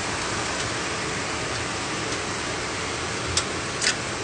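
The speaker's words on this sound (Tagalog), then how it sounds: "Oh, yan, lakas ng ulan mga boss." Heavy first-of-May rain pours down in a steady, dense hiss close by, with a couple of brief faint ticks near the end and no talking.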